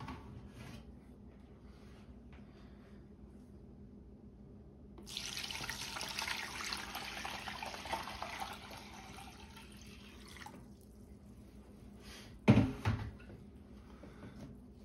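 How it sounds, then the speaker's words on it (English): Water poured into a gold pan of paydirt: a steady splashing pour of about five seconds, preceded and followed by quiet ambience, with a sharp clunk of the pan near the end. "we'll pour a little water in this and get to it"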